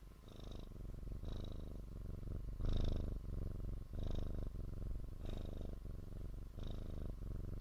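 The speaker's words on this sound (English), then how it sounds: "Can you hear him purring?" A cat purrs up close, a steady rumbling purr in long rhythmic cycles that swell and fade with each breath, heard alone with no talking.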